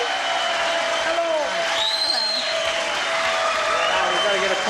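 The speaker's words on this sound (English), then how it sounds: "I will ask you to join me in a brisk applause for our two civilians over here" A game show studio audience claps in continuous, even applause, with a host's voice speaking over it.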